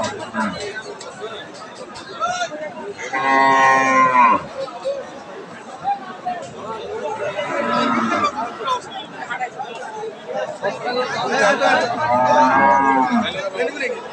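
A Friesian cow moos loudly three times, long drawn-out lows spaced several seconds apart, over a steady murmur of crowd chatter and outdoor bustle at a cattle market.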